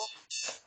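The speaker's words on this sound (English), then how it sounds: "That was my alarm." An alarm sounds during a conversation at the White House: a loud, bright electronic tone breaks off briefly, then resumes and rings on steadily.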